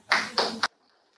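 Three sharp hand claps in quick succession, close by, at a medical conference plenary hall, followed by near silence.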